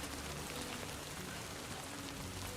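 Steady rain patters across surfaces in the video game Death Stranding 2, a faint, even hiss of drops with no other sound.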